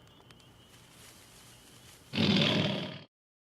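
A lion roars loudly and close for about a second in a comedy scene set at a funeral, breaking in over quiet background sound and then cutting off abruptly into silence.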